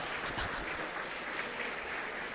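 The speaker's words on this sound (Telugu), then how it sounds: "చాలా తక్కువగా చప్పట్లు మోగుతాయి" An audience clapping during a motivational speech against caste, a thin but continuous patter of hands heard from a distance, with no distinct individual claps.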